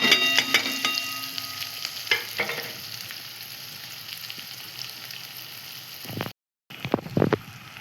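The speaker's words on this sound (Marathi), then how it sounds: "आपण थोडं मीठ टाकलं की कांदा फ्राय होण्यास छान मदत होते" Chopped onion sizzling in a pan with garlic and asafoetida for a Marathi vegetable dish, a steady close frying hiss with a few stirring clatters, a brief cut near the end, then more scraping.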